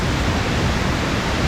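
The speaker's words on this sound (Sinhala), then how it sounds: "මේ තියෙන්නේ මඩ පිටිපස්සෙන් ඒ ඇල්ල." Steady broadband rush of falling water, heard from behind a gentle waterfall near Balangoda, Sri Lanka; a continuous close wash with no pauses or voices.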